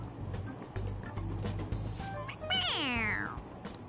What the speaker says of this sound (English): It meows when you press on its head.